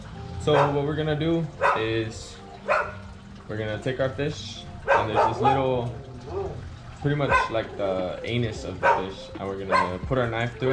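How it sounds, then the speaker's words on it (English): Someone talks steadily while dogs bark intermittently in the background, with some yips mixed in under the speech. "Excuse the dogs, guys."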